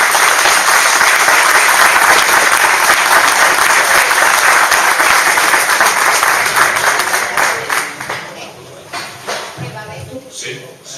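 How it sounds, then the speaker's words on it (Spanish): A large audience applauds loudly and steadily for a speaker introduced at a lecture on a biography, dense clapping that thins out toward the end with a few scattered claps and voices. "Un aplauso para Paco Ródena."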